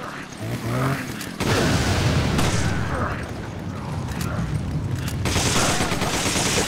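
Gunfire in the Resident Evil 5 video game, sustained bursts of rapid shots and booms over a dense, noisy battle din, loud and close with a brief lull before it intensifies.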